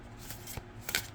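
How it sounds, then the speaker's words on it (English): Half of a tarot card deck is shuffled hand over hand, giving faint, soft papery swishes in a few quick strokes, close by and quiet. "I can only take about half of the deck to do this hand over hand."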